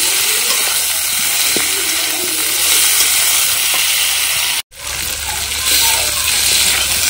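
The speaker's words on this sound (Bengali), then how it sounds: "মশলার সাথে আলু আর বেগুনটা 1-2 মিনিট একটু কষিয়ে নেব।" Potato and eggplant sauté with spices in a pan for a fish curry, giving a steady, close sizzle and crackle with occasional stirring scrapes, broken by a split-second dropout.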